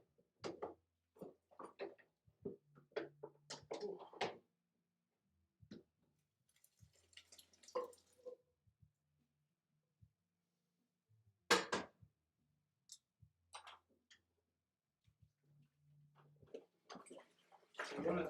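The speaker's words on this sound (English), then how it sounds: "As you can tell, it's dripping a bit." Starchy water dripping from drained rice for a Mexican pilaf, faint scattered drips and light splashes at close range, with talk between them.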